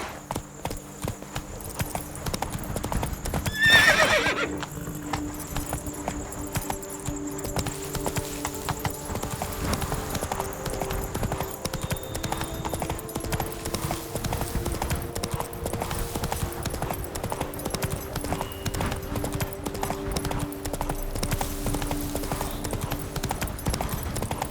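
Hoofbeats of a horse galloping steadily in The Witcher 3 video game, a continuous clip-clop rhythm over game ambience and music, with a brief neigh near the start.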